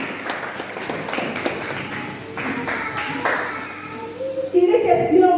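A church congregation claps in praise of the Lord, a loose run of hand claps at moderate distance with voices mixed in, building louder near the end.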